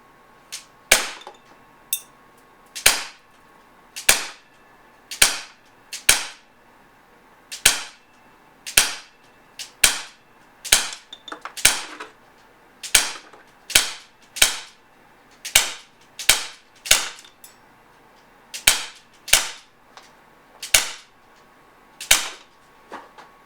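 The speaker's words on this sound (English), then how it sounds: "now we're at the range and let's do some shooting together" An Umarex Morph 3X 4.5mm CO2 air gun fires at a range about 16 feet from the target, giving around twenty sharp, close pops spaced a second or so apart with quiet gaps between them.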